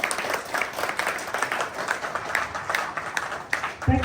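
Audience applause welcoming delegates at a private universities conclave in India, a dense crowd of clapping sustained for about four seconds before breaking off near the end.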